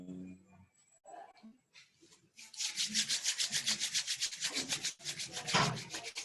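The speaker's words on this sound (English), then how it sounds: "Gently rub your palms." Palms rub together in a brisk, steady back-and-forth rhythm, a close, dry swishing that runs for several seconds after a few quieter rustles, with no speech over it.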